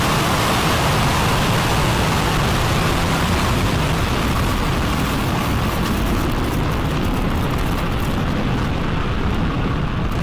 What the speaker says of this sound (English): And we have liftoff of Spectrum.